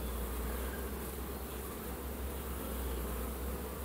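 Honeybees swarming at a hive entrance as foragers return loaded with pollen, a dense, continuous, close buzzing drone that holds steady throughout with no voices.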